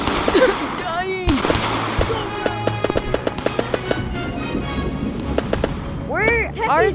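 A shooting video game sends out a rapid series of sharp gunshot cracks and pops, some close and loud and others lighter, scattered over several seconds with a voice heard now and then.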